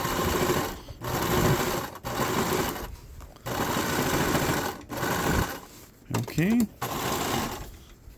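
A sewing machine stitches a patch onto fabric, running in steady sustained bursts with brief pauses between them, close and fairly loud; a person talks over parts of it.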